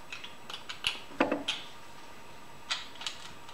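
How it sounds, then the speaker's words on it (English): A GoPro Hero 3 Plus Black is screwed onto a tripod mount thread, giving a few small, close plastic-and-metal clicks and ticks in scattered bursts over a quiet background. "All you have to do is just simply as tighten up, screw on to the thread"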